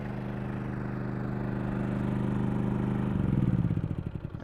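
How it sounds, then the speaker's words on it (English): A generator runs on a 2020 Summit Adventure Van Longs Peak camper van to power the rooftop AC, a steady low droning hum that turns to a rough, sputtering rumble toward the end as it winds down. "I'm going to go ahead and shut off that generator so you can hear me a little bit better"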